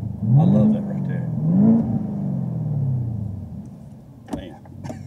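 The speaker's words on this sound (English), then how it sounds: "right now it just sounds like a regular car" Chevrolet Camaro ZL1 with a 10-speed automatic, muffler not bypassed, revving in two rising pulls that swell and fade, loud and close with a low rumble, followed by quieter engine drone and a couple of sharp clicks.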